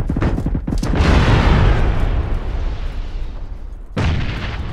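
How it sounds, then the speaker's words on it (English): Grenade explosions in a shooter video game: a heavy, booming blast that rolls off into a long decaying rumble, followed by a second sharp bang near the end, loud and close. "I'm gonna move up and throw nades"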